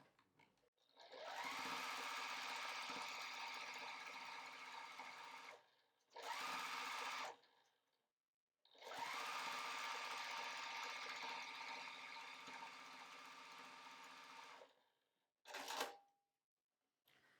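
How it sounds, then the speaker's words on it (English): A sewing machine stitches across a fabric panel in two long, steady runs and a few shorter bursts, with a loud, close motor whir and brief silences between the runs. "So line up that bottom accent on that line and then sew across there."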